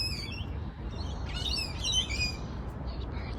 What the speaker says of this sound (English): There's birds singing. I can't see them, but they're beautiful sounding.